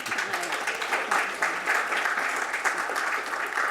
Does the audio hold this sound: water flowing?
no